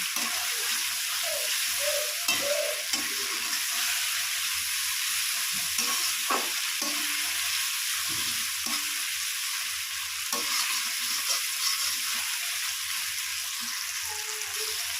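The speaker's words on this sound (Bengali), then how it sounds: "আদা রসুনটা দিয়ে এবার 2 মিনিট এভাবে নাড়াচাড়া করে নেব" Ginger and garlic paste sizzles steadily in a hot pan while a spatula stirs it, with repeated scraping strokes over a constant frying hiss and no voices.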